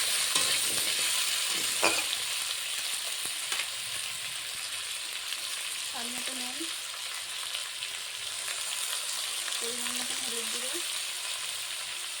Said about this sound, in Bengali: পেঁয়াজটা বেশি ভাজবো না অল্পই ভাজবো